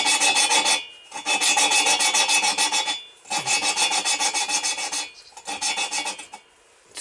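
A valve on a Yamaha XS650 engine being lapped by hand with coarse grinding paste, giving loud, close gritty rasping strokes in four long bursts separated by short pauses.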